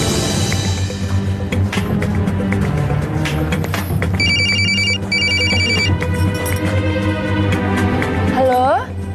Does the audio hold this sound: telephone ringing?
yes